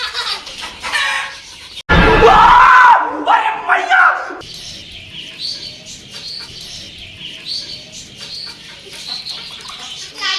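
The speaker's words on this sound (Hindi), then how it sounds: "मुबीन चूजा पकड़ो, चूजा पकड़ दो।" Chicks cheep and flutter in a noisy burst as a pit bull chases them, the commotion loud at first, then fading into scattered chirps and clucking, with people shouting over it.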